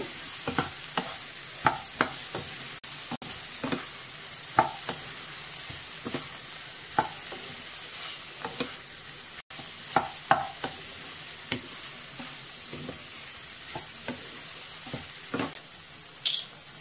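Cauliflower pieces fry softly in a pan over a low flame, a gentle steady sizzle broken by irregular scrapes and taps of a spoon stirring the mixture.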